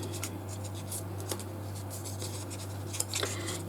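Scissors snip up paper leaves for a handmade box, quiet crisp cuts and paper rustles coming in short irregular bursts over a low steady hum.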